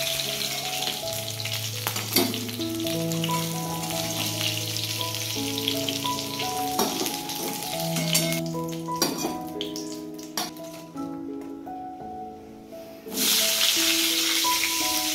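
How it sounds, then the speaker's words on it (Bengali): Fish sizzles steadily as it fries in a home kitchen pan, a continuous bright crackle with a few clinks of utensils and a louder burst of sizzling near the end. "এদিকে মাছটাও দেখো প্রায় ভাজা হয়ে গেছে"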